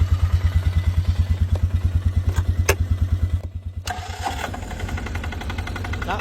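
A Polaris diesel engine, turbocharged, idles with a steady rapid knocking beat up close, then the rhythm loosens into a rougher, busier clatter with some metallic rattles, loud throughout.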